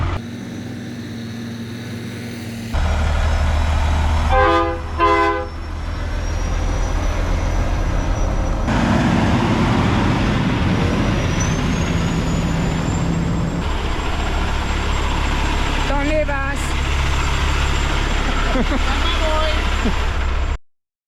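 A pickup truck on the road for an oversized-load trip kicks in after a quiet opening and sets up a loud, continuous road and engine rumble. Short bursts of talk come and go over it.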